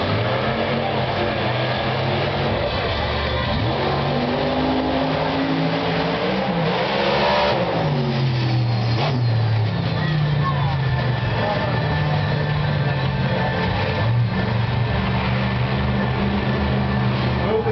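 A racing truck engine revs during practice on a track, roaring and climbing in pitch as it accelerates, with a commentator talking over the sustained loud drone.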